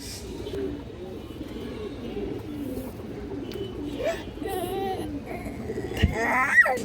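Old-bloodline domestic pigeons give low, rolling coos nearby, quiet and repetitive, with a few sharper bird calls and faint background noise toward the end.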